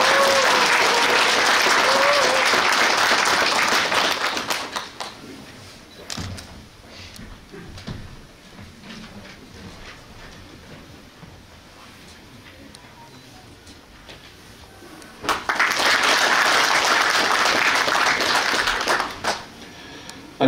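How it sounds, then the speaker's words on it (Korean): A crowd at a Democratic Party rally in Korea breaks into loud, sustained clapping, goes quiet with a voice speaking over it, then erupts into a second burst of applause. "여러분 뜨거운 박수로"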